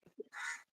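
A crow gives a single loud, harsh caw lasting about a third of a second, preceded by a couple of faint, soft sounds nearby.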